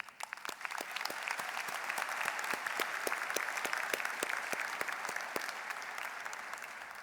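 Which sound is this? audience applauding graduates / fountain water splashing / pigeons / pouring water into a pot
audience applauding graduates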